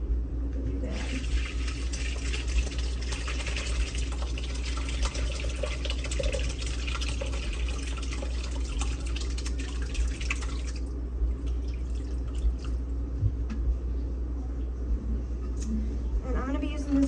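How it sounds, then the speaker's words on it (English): Curds and whey for raw milk feta pour into a cheesecloth-lined colander set over a bowl, giving a continuous splashing, trickling stream that stops partway through and leaves soft drips under a low hum. "So now I'm gonna pour them into this bowl that has a colander with some cheesecloth on top."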